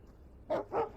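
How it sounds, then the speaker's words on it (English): Two loud, close barks from a dog in the video game Alan Wake, each a short burst separated by a brief pause, standing out over a low, quiet game background. "Oh, gosh, there's a dog in there."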